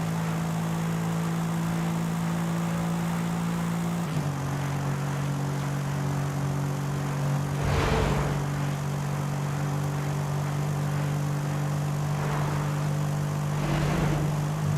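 A tuned car engine in Forza Horizon 5, a 900-horsepower build revving to about 7,200 RPM, holds a steady droning hum with a slight pitch drop partway through and brief swelling surges, heard alone at moderate level.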